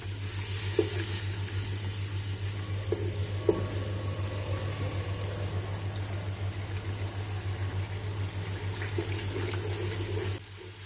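A steady sizzle of masala frying in a pan for kadhi pakora, continuous hiss with a low hum beneath and a couple of soft clicks, then it cuts off near the end.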